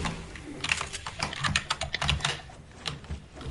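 Rapid, uneven keystrokes on a computer keyboard while editing, close and fairly soft, clattering in irregular bursts throughout with no talking over them.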